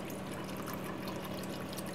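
Water pours steadily into a container at a hydraulic fracturing demonstration site, a continuous close trickling and splashing with no pauses and no talk.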